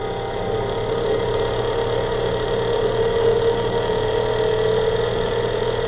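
A homemade HHO generator built from microwave parts, running at 12 volts, gives off a steady, loud mechanical hum and buzz with constant vibration and no pauses.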